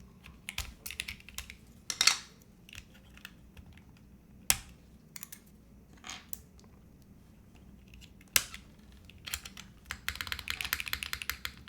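Typing on a rebuilt OG60 mechanical keyboard produces close, irregular clacking keystrokes. A few sharper, louder hits stand out, and a fast, steady run of typing comes at the end, with no one talking.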